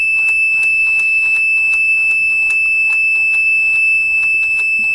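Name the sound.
alarm of a Dillon XL ammunition reloading press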